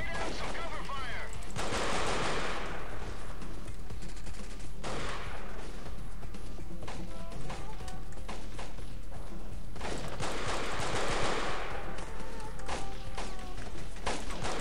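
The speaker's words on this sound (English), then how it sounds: "Lay down some cover fire." Dense bursts of gunfire fill a Black Hawk Down firefight, with rapid automatic fusillades and single shots layered continuously at loud, steady volume, punctuated by thuds and impacts.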